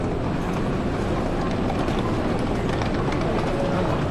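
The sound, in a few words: train passing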